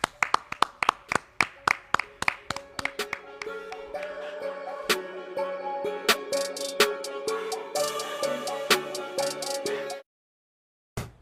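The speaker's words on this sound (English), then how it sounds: "Clap it up. Clap it up." Hands clap in a steady run of sharp, separate claps that thicken into a denser burst of clapping and then stop abruptly, with no talking.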